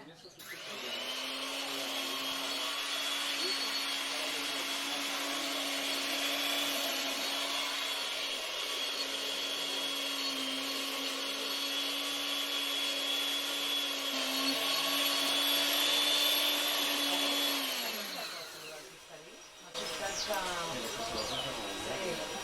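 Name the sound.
electric grinder finely grinding Ras el Hanout spice blend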